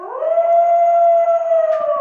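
A single long wolf howl, loud and close, rising quickly then holding a steady pitch for about two seconds before tapering off.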